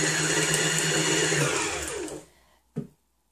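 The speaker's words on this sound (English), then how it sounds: "So we're going to load some thread onto the bobbin." A sewing machine winding thread onto its bobbin, a steady high-pitched whirring hum running close and loud, then spinning down and stopping, followed by a single sharp click in the quiet.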